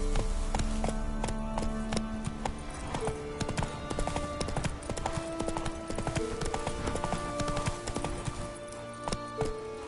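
Hooves clip-clop in a fast, steady galloping rhythm as a horse runs in The Witcher 3 game, loud and continuous for the whole stretch, with no talking.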